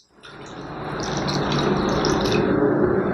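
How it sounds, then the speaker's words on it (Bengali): Two cups of water poured steadily into a bowl for mixing milk powder, a continuous splashing pour that builds in fullness over a few seconds, close and alone. "এখানে আমি 2 কাপ জল আমি এখানে দিয়ে দিচ্ছি।"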